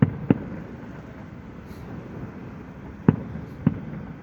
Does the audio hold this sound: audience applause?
no